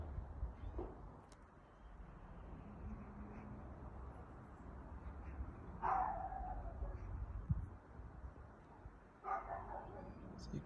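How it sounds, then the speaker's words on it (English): A dog next door barks in a few short, muffled bursts at a distance, faint beneath a nearby voice talking. "I have a dog barking his head off next door every now and again,"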